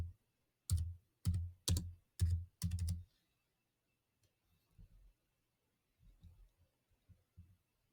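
Keys on a computer keyboard are struck in a quick burst of about five loud, close clicks, then a pause and a few softer, scattered taps.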